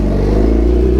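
A motorcycle engine runs loud and steady up close, with a low, even rumble and faint clatter throughout, no talking over it.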